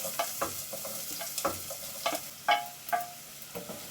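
Onions frying in melted coconut oil, a soft sizzle punctuated by scattered stirring taps and scrapes of a utensil in the pan, close and fairly quiet with no talking.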